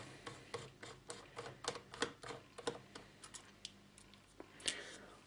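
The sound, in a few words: screwdriver removing laptop screws, Asus K55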